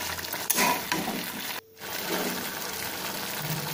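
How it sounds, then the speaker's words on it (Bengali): Meat for Kolkata-style biryani sautéed in a pan with mixed spices and Kashmiri red chilli powder: a close, steady sizzle with stirring scrapes and a brief silent break partway through. "এরপর সমস্ত মশলাগুলো একসাথে মিশিয়ে ভালো করে কষে নেব"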